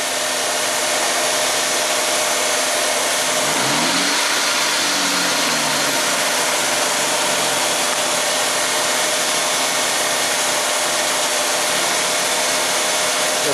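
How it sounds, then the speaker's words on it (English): Car engine revved up with an ignition relay pulled during an ignition waveform test, a loud steady high whine and roar with a brief rising-falling rev sweep early on, no talk. "I'm going to pull my relay and I'm going to rev the engine up"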